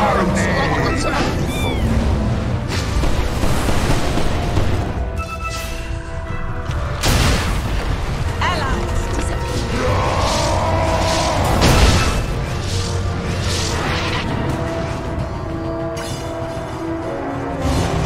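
Dota 2 match audio with a tower under attack: dense, continuous layered game sound with repeated booming impacts and crashes, plus an announcer voice speaking over the busy mix throughout.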